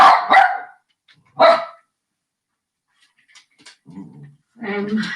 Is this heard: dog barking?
yes